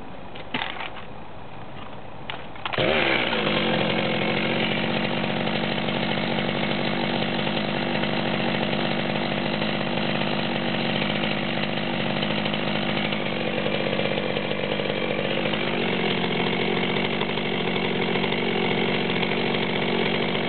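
A Stihl MS200T top-handle chainsaw and a modified Echo CS-2511T chainsaw run in turn, loud and close, with a steady high-pitched engine drone after a brief start.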